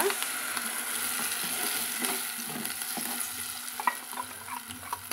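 Onions and lentils sizzle and crackle in a hot pan, with occasional stirring scrapes, steady and close.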